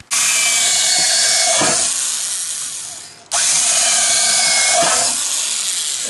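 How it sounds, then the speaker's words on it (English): Power drill pre-drilling nail holes in deck roof lumber, two long loud whirring runs with a brief pause between, each winding down as the bit clears the wood. "always pre-drill first"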